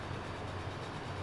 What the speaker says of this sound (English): getting passed by this Advanza Freight train in the background